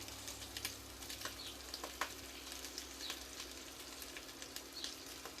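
Onions frying in a 4.5 quart brazier, a faint steady sizzle with scattered sharp crackles and light ticking pops, quiet and even throughout.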